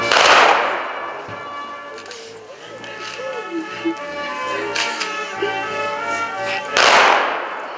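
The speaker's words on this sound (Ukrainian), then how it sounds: "Тут за традицією лунали прощальні постріли у повітря." Two loud sharp bangs, farewell gunshots fired into the air at a funeral, one at the start and one near the end, ring out over a stretch of distant murmuring and background sounds.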